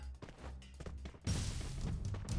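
A sudden booming grenade blast in Free Fire erupts after scattered thuds and movement, followed by a loud, noisy rumble.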